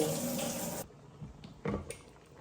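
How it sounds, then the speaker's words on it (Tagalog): Water poured from a tap into a pot of fish paksiw, a steady running stream for under a second that cuts off, followed by a few light clinks and knocks nearby. "At lagyan ng tubig. Ayan, konting tubig."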